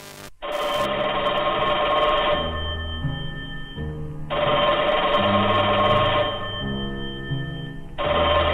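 A telephone rings in an analog horror setting, with long buzzing electronic rings roughly four seconds apart, loud and steady over a low droning hum, and no talking.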